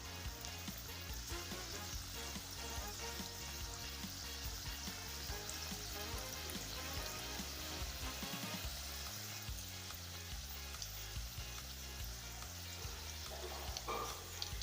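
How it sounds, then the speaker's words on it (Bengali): Stuffed papad frying in hot white oil in a wok, giving a steady, continuous sizzle and crackle that stays fairly loud and close throughout, with no talking. "তো এবার কড়াই সাদা তেল দিয়ে এবার এগুলোকে একটা একটা করে ভাজবো।"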